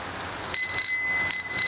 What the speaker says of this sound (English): How you make ring the bell on your bike?